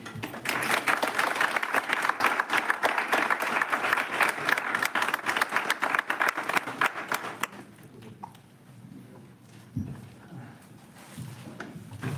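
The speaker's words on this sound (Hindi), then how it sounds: "एक बार जोरदार तालियां।" An audience applauds loudly and steadily for around seven seconds before the clapping stops abruptly, leaving quiet room sound and a few small thumps.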